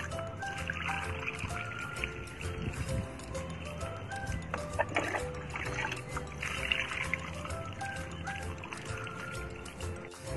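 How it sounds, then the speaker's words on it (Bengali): Water is poured into a pot of soil just after a mango sapling is planted, a close trickling, splashing stream lasting several seconds over faint background noise. "পটিং করার পর আমি দেখো টব ভর্তি করে জল দিয়ে দিচ্ছি।"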